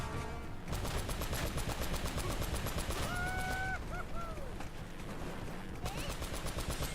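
Rapid automatic gunfire in Uncharted: Drake's Fortune, a dense stream of close, loud shots with game sound effects and a voice speaking over part of it.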